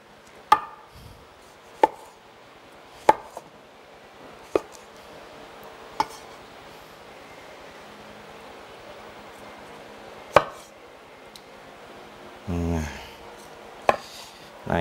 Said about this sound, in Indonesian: sembari saya memotong tomatnya